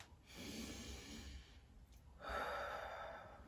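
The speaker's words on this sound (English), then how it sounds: "and the deep breaths" Deep breaths from a physiotherapy breathing exercise, heard close and quiet: a long, soft breathy inhale followed by a slightly stronger, airy exhale, with no talking.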